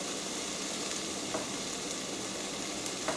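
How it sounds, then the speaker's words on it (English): Minced garlic hitting softened onions in a hot pan sets off a continuous, close sizzle that stays even for a few seconds without any talking. "Just going to add the minced garlic."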